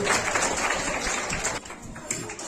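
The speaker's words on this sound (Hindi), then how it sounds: "जोरदार तालियां रानी के लिए भी" Applause for a student at a school farewell ceremony at The Vision Public School, Itkhori: steady dense clapping from a crowd, fairly loud throughout, thinning slightly after the midpoint before a brief swell near the end.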